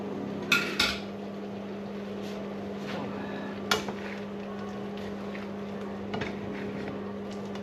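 Spring roll filling being mixed in a bowl, with a few sharp clinks of a utensil against the dish over a steady kitchen hum, sparse and fairly close.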